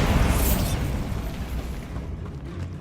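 A Bombarda spell blast in Hogwarts Legacy, a loud booming explosion with low rumble that opens with a bright burst and then trails off into a dense, slowly fading roar, with no talking.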